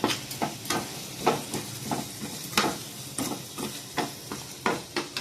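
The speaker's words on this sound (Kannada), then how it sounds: "ಚೆನ್ನಾಗಿ ಫ್ರೈ ಆಗಲಿ ಇದು ಫ್ರೈ ಆಗ್ತಿರಲಿ" Garlic frying in a pan for a chicken curry, a soft steady sizzle broken by repeated scraping stirs at a brisk, uneven rhythm, close and fairly quiet with no talk.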